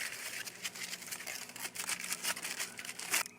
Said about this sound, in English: It's last night's potato, wrapped up in aluminum foil still.